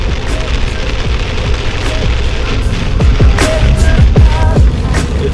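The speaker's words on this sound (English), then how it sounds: "It's raining pretty badly now." Heavy rain drums on a car travelling on a highway at about 80 km/h during a rainstorm, a dense steady wash with scattered sharper drop hits and low road rumble throughout.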